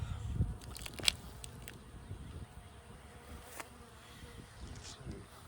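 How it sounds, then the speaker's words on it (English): Honey bees swarming over a hive's queen excluder during a beekeeping field exam, a steady low buzzing hum close by with a few faint clicks and bumps, no talk. "we have a lot of bees up here on this queen excluder"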